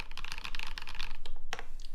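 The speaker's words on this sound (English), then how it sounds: "This is how loud the mouse clicks are right at keyboard level." Rapid typing on a RAMA U80-A mechanical keyboard, with dense clacky keystrokes in a fast continuous burst, heard close and loud with a few separate heavier presses near the end.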